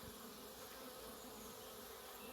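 Honeybees buzzing at the entrance of a hive beside a greenhouse, a faint, steady swarm drone with no pauses and no talking.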